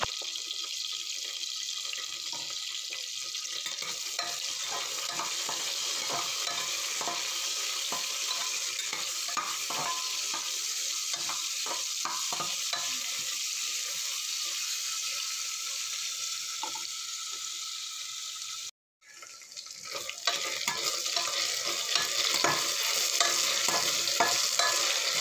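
Sliced onions sizzle steadily in a hot pan as they fry toward red-brown, with a spoon stirring and scraping through them. The loud, continuous hiss breaks off briefly near the end, then resumes.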